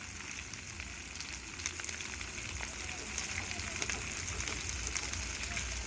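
Capsicum and onion sizzling in a hot pan as they are stirred, a dense continuous crackle with scattered sharper pops throughout, fairly steady and close.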